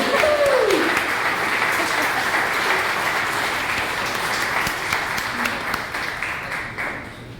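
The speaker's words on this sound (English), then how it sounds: "great round of applause to all of our students for their certificates of completion" Graduation ceremony audience applauds students receiving certificates of completion, a broad sustained wash of clapping that starts with a brief whistle-like tone and fades slightly toward the end.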